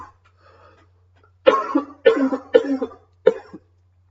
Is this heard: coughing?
yes